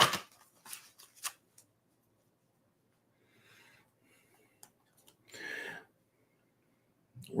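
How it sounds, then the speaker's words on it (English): A deck of angel oracle cards is shuffled in short riffling bursts separated by quiet gaps, close and moderately soft, with no speech over it. "Let me get a good shuffle."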